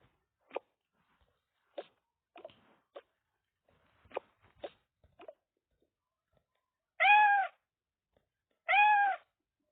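Scattered soft clicks and taps are followed by two clear, loud cat meows a couple of seconds apart, from the game Toca Life World.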